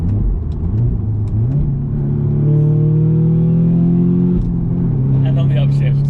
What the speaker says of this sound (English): just listen to these downshifts